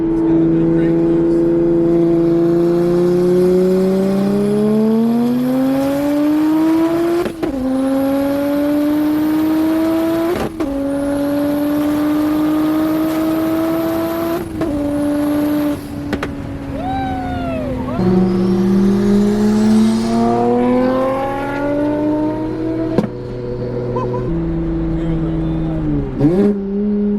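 Single turbo BMW 335i accelerating hard in third gear from inside the car, the engine droning loudly and rising steadily in pitch through long pulls, with brief dips at shifts and a whistling turbo whine on top.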